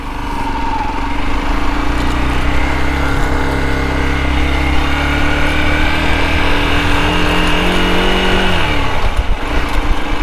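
A Hero Xpulse 200 off-road motorcycle engine runs steadily and loud up close, a continuous buzzing single-cylinder drone that climbs in pitch and then drops near the end as the bike is ridden.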